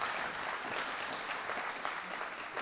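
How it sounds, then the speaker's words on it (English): A church congregation gives a sustained round of applause for mothers on Mother's Day, a dense, even wash of many hands clapping at once that holds steady throughout. "So, yes, you give them another round of applause."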